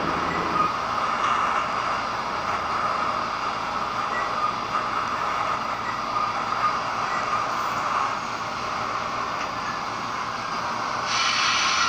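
An R46 subway train on an N run toward Kings Highway in the Hmmsim 2 train simulator game, with a steady, loud rumble and hiss of the moving cars throughout and no talk.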